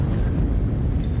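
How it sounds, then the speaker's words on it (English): An explosion in the horror video game Until Dawn, heard as a dense, steady low rumble with broadband roar lasting the whole short moment, loud and continuous with no speech over it. "Okay, so that's the explosion"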